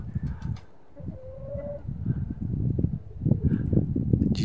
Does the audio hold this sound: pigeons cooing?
yes